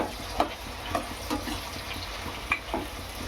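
Dried fish and big chillies frying in oil, a soft steady sizzle broken by occasional light stirring knocks, quiet and close with no voices.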